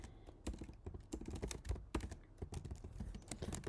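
Rapid, uneven clicking of keys on a computer keyboard, close and fairly quiet, continuing without pause and with no talking.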